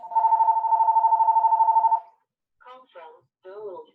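A phone rings during an online planning meeting, a steady loud two-second ring tone that stops abruptly, followed by a few brief bursts of voice.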